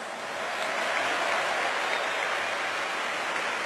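Sustained applause from a large stadium crowd at Es Con Field Hokkaido during a baseball hero interview, a dense, steady wash of clapping that swells in and holds at an even level throughout.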